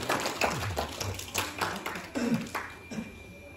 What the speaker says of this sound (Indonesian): Tepuk tangan dong untuk beliau.